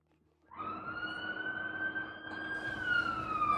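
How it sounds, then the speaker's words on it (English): An ambulance siren outside, starting abruptly and holding a steady high wail that slowly rises in pitch and grows louder as it approaches, heard alone without talk. "Well, at least that's an ambulance."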